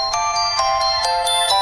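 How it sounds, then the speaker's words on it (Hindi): A phone ringtone plays over background music in a dramatic Hindi-dubbed film scene, repeating bright chiming bursts at a steady rhythm, continuous and moderately loud throughout. "It's ringing."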